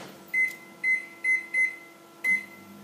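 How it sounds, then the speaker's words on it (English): A microwave oven heating bread gives five short, evenly spaced electronic beeps over a steady low hum, each tone clear and close, with a brief pause before the final beep. "Put it in the microwave for about 20 seconds."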